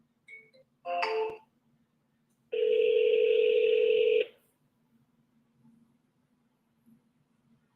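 A phone call going to voicemail, heard as a short electronic tone burst followed by a long, steady two-pitch beep of about two seconds, clear and isolated against near silence.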